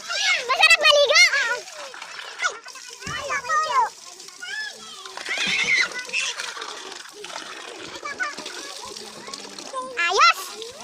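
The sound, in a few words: child splashing water while bathing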